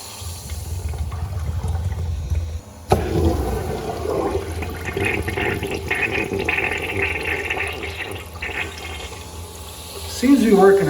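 A Sloan flush valve on a toilet pressurizes with a rush of water after a sharp opening surge, hissing and gurgling steadily up close, with a louder burst near the end and someone speaking briefly over it.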